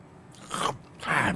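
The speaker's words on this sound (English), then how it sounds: "I'm gonna just chew this right in front of you." A game character bites and chews citrus beef: two close, crunchy bites about half a second apart, fairly quiet and with no talk over them.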